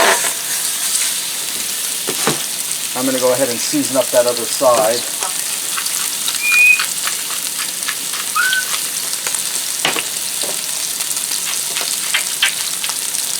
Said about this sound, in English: I'm going to fry this for about 5 to 6 minutes on each side so they get nice and golden brown.